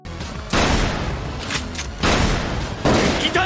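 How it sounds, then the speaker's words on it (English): Loud gunshots ring out in an anime battle scene: three separate heavy blasts, each followed by a long roaring echo that lingers before the next shot. "Usagi fires a shot at the wrong building"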